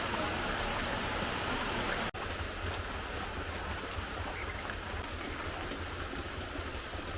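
A light drizzle of rain falls in a steady, soft, even patter that stays faint and continuous, broken only by one tiny gap.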